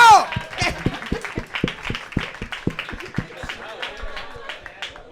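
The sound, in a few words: audience applause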